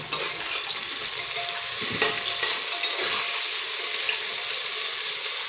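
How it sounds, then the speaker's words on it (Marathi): Chopped green chillies and tomato fry in a pan with a steady, bright sizzle, punctuated by a few soft stirring scrapes partway through; no voices. "त्याच्यात आपण या हिरव्या मिरच्या कट केलेल्या टाकून देऊ आणि त्याच्याबरोबर आहे ना मी टोमॅटो बी टाकते"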